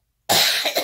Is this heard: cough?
yes